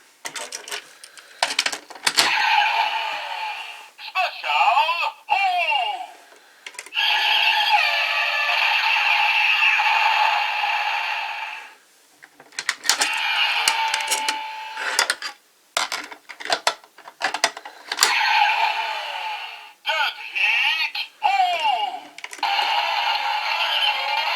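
Bright electronic chimes, clicks and synthetic jingles from a Kamen Rider Drive Shift Next Special toy play in bursts, with mechanical clacks between them and short pauses.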